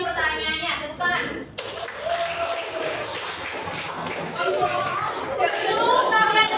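Students in a high school Indonesian-language classroom break into lively clapping after a question. A teacher speaks briefly before the applause begins, then the clapping and chatter continue to the end.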